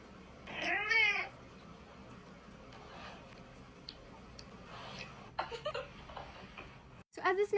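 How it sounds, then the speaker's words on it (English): A cat meows in a played-back clip, a couple of clear rising meows close by, then quieter meows and faint ticking, with another burst of meowing at the end. "what the heck is this cat doing in this clip?"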